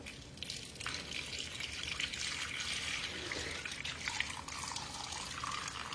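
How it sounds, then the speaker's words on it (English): Liquid trickles and splashes faintly as it is poured into a crock pot over a roast with vegetables in a home kitchen, a soft continuous pour with small shifts in the stream and no talking. "I'm going to pour this in here."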